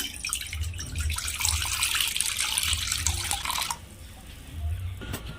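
Water runs from a tap into a mug for kadam pitha dough, a bright splashing stream for a few seconds that cuts off, followed by softer drips and handling sounds nearby.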